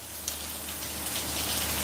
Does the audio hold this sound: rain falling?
yes